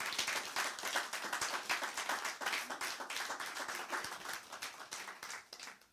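A church congregation at a seminary service bursts into applause, many hands clapping in a dense, steady roar that continues for several seconds at moderate distance.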